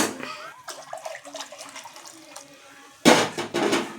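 Water pours into a cooking pot for coconut milk rice in a home kitchen, a brief splashing gurgle, followed by a louder, fuller rush of pouring near the end, close by and with no speech.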